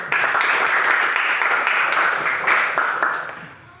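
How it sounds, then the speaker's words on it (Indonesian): A classroom of students clapping together, a dense, steady burst of applause lasting a few seconds before fading out at the end. "Tepuk tangan dulu untuk hadiran kalian"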